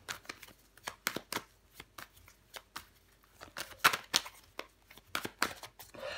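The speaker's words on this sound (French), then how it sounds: "Je vais recouvrir des cartes." Tarot cards are shuffled, flicked and laid out on a table in a run of sharp, close papery snaps and slides, irregular and fairly quiet, with no voice.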